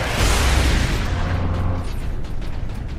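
A missile launcher fires and explodes in Warhammer 40,000: Space Marine, a heavy booming blast with a deep rumbling low end that fades into a lingering tail over a few seconds.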